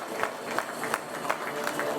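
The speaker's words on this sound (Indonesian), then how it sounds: "Boleh Bapak dan Ibu hadirin berikan lagi tepuk tangan yang meriah sekali lagi." Audience applauding at a festival opening ceremony: a scattered, moderately loud round of clapping with individual claps standing out over a soft crowd murmur.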